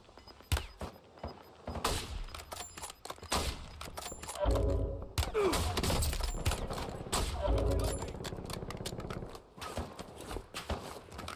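Gunfire in the battle royale game Warzone: rapid bursts of shots and heavy continuous firing, loud and close, with a dense rattling stretch in the middle.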